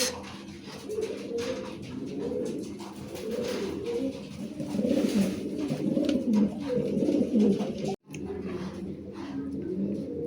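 Lahori pigeons at a farm coo steadily in layered, overlapping calls, close and fairly loud, with a brief dropout near the end.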